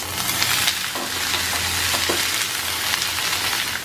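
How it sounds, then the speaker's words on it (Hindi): Paneer cubes and diced capsicum sauté in ghee in a pan: a loud, continuous sizzle with stirring scrapes running through it, close up and without talk. "पनीर और कैप्सिकम को सौते कर लेते हैं।"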